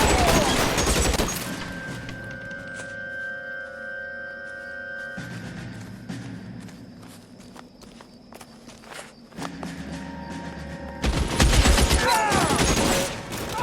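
Sustained gunfire from the 1940s Los Angeles crime game L.A. Noire, loud automatic bursts at the start and again near the end, separated by quieter footsteps and ambient game noise until the ammunition runs out.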